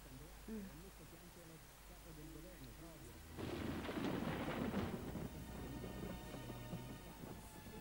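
A thunderstorm with rain as a film soundscape: a loud thunder rumble breaks in and rolls on for a couple of seconds over steady rain, with voices talking before and after.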